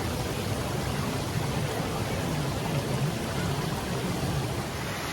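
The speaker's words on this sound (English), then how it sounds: "And a beautiful waterfall as well." Steady, dense rushing water from a waterfall in a parkland area of Montpellier, France, at night: a continuous full roar held at an even level throughout, with no voices.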